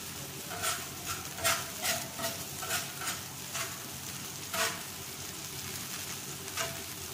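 Chopped garlic and onion fry in a pan until lightly browned, a steady soft sizzle with periodic stirring scrapes at close range, quiet overall and no talk.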